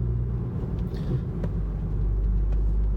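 A car moves along the road, heard from inside as a steady low rumble of road and engine noise with faint creaks, no talking.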